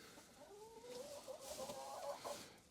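Chickens clucking softly inside a coop during extreme winter cold, a short run of murmuring calls rising and falling at moderate distance, with no voices present.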